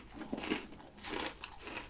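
Crunchy Flamin' Hot Cheetos being bitten and chewed up close, with a few quiet, crisp crunches spaced irregularly across a soft background and no talk.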